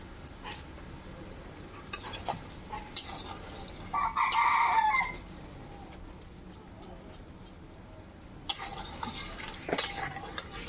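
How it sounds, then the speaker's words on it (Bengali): A spoon stirs a semolina sweet mixture in a pan, making intermittent scraping clinks and taps, while a rooster crows briefly in the background. "একটু নাড়াচাড়া করে নিই।"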